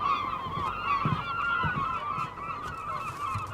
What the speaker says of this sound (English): what's the attraction for the flocks of seagulls suddenly circling the boat?